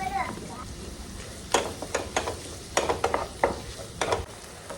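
Onion, crushed ginger, garlic and green chilli stirred in hot coconut oil: soft sizzling with scattered scrapes and clinks of a spoon against the pan, close by, with some voices.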